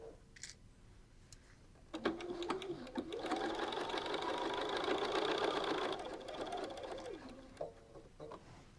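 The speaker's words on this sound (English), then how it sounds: "we're going to sew these pieces together with a standard 1/4 inch seam" A sewing machine stitches fabric pieces together with a quarter inch seam, a steady whirring hum running for several seconds after a few brief starts, close and fairly quiet.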